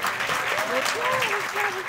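Applause from a live studio audience on a French morning TV show welcoming guests after a film screening, steady clapping with a voice or music tone weaving faintly underneath.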